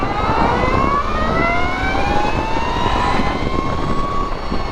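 A 2022 Energica Ribelle RS electric motorcycle accelerates, its motor whine climbing steadily in pitch with layered tonal harmonics over a constant wash of road and wind noise.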